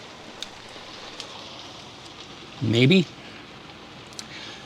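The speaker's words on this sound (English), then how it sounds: "it's raining" Steady rain patters on a camper stuck on Aransas Pass Beach, a soft continuous hiss throughout, with a single short spoken word partway through.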